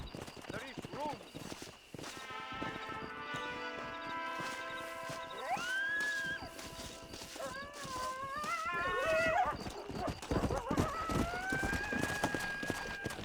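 A horse gallops in the Red Dead Redemption video game, with rhythmic hoofbeats running continuously under music and game sounds, and a whinny partway through.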